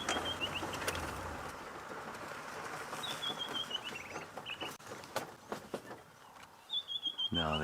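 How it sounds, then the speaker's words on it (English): Birds call and chirp at sunrise outdoors, with repeated high whistled phrases and clucking, cooing notes from several birds at varying distances over a steady background hum. "let's just listen to the birds here for a second"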